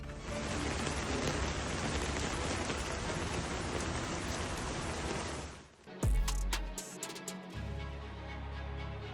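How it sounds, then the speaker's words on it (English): Torrential rain pours over flooded streets in Malaga, a dense steady hiss of downpour for about six seconds before it cuts to a different, louder and more uneven scene. "Torrential rain pours over Malaga, transforming the streets into raging rivers"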